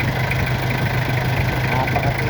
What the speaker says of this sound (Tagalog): Maingay lang talaga ito pero sobrang tipid sa diesel at sobrang lakas ng makina.